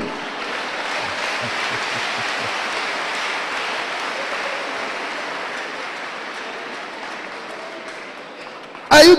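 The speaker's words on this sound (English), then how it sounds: "Clap hand for me." A church congregation claps hands during a sermon by Pastor Paul Rika, a broad, rain-like wash of many hands that fades gradually before a sudden loud burst at the very end.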